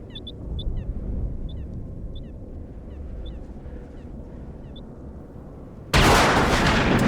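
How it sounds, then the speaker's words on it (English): Gunfire in a scene from the 1995 science-fiction film Screamers: quiet rumbling ambience with faint chirps, then one sudden, loud, broadband blast near the end. "let's watch him get shot"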